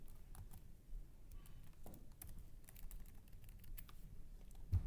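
Keys on a computer keyboard clatter in quick, irregular bursts of soft clicks while entering Excel formulas, faint and close with short pauses between strokes.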